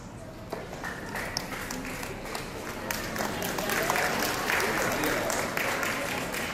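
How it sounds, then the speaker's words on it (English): Audience applause fills a school awards ceremony at a middle school, steady dense clapping throughout with a few sharper individual claps, under a faint murmur of voices. "then we'll give them a nice round of applause"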